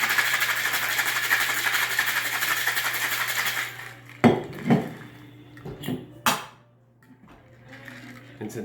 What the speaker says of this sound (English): top it with ice, a little shake